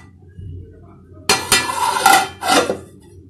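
A metal lid is set onto a pot of dal cooking with chopped raw mango. After a quiet simmer there are a few sharp clinks and a rattle of metal on metal, close and fairly loud.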